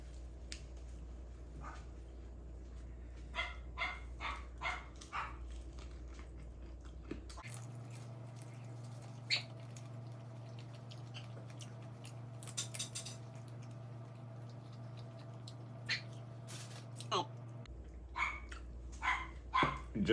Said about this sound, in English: Oh no, now my dog's reacting.